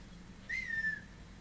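A Mafia 3 character gives a single short whistle, a clean rising-then-level tone lasting about half a second, over a quiet game-world background.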